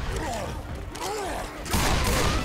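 Gunfire aimed at the Tank in Left 4 Dead 2 on expert difficulty, rapid shots under the game's infected growls and general chaos, ending in a louder burst of noise.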